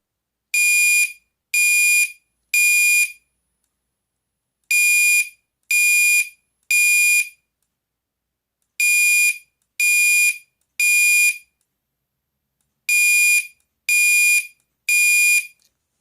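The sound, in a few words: fire alarm horn beeping in code 3 pattern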